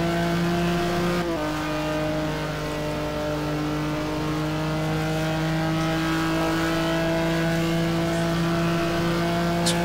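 A race car engine in a racing video game at Road America, held at a steady high drone through the carousel with one brief shift in pitch near the start, loud and continuous with no talk.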